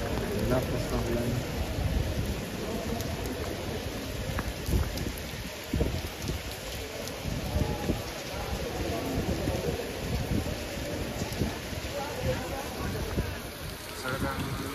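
Heavy rain pours steadily in a dense, continuous roar, with indistinct voices faintly mixed in beneath the downpour.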